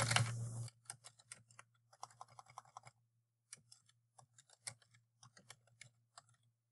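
Clicky computer keyboard typing in short close bursts of rapid keystrokes with brief pauses between, quiet and alone apart from a low steady hum.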